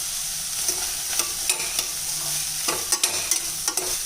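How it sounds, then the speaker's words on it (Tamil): Onion and tomato sauté in a pan with a steady sizzle while a spoon scrapes and stirs in quick, irregular strokes, close and clear with no talking. "இப்போ நம்ம சேர்த்த வெங்காயம், தக்காளி ஒரு 2 நிமிஷம் நல்லா வதங்கிடுச்சுங்க"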